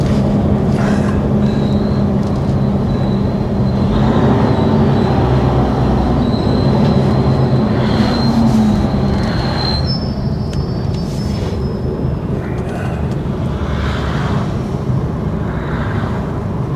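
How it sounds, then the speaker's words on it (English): Train brakes squealing on a bend in Blaenavon, loud high-pitched screeches and whines rising over the constant heavy rumble of wheels on rail, close and sustained throughout. "Squeaky brakes."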